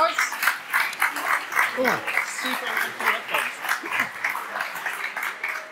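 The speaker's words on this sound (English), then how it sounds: "Round of applause, please, guys." A crowd claps continuously in steady applause, moderately loud, with a few scattered voices and chuckles mixed in.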